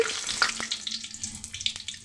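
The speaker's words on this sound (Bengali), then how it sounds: "কড়াতে তেল দিয়ে দিয়েছি। দিয়ে দিচ্ছি পাঁচফোড়ন, শুকনো লঙ্কা, দারচিনি" Whole panch phoron, dry red chillies and cinnamon crackle and sizzle in hot oil in a kadai, a steady bright hiss with scattered pops and a few sharper clicks, close and moderately loud with no talking.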